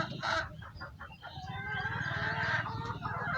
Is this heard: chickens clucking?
yes